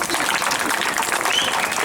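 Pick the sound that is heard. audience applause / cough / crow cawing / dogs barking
audience applause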